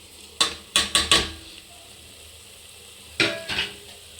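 Spice powders stirred into mutton masala sizzling in a pan, with a spoon scraping and clanking against the pan in a quick group of three or four strokes, a pause, then a few more.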